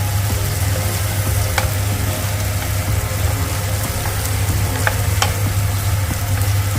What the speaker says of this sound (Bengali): একটু ছোট সাইজের পেঁয়াজ কাটা কুচিয়ে দেওয়া হয়েছে তেলে